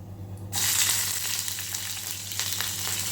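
Green chillies hit hot ghee over a cumin tempering, setting off a sudden loud sizzle after a brief quiet moment that then crackles steadily and close by, with no talk.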